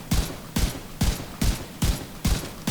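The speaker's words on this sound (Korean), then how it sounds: "지금 적을 쏘지 않고 엄한 데를 이렇게 쏘잖아요" Gunfire in The Division 2 video game: six loud, evenly spaced shots or short bursts about half a second apart, each with a sharp crack and a brief tail, with no talk.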